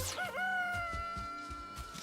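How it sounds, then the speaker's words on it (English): Chicken sounds in a video game, short clucks and a crowing-like call, fairly close and alone over a low game-world bed, about two seconds. "Maybe another chicken sound."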